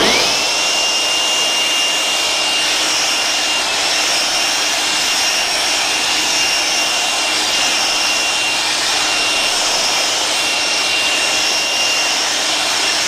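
A leaf blower roars steadily and loudly throughout, blowing bees down off honey supers during an early spring honey harvest, with a constant high whine and no talk.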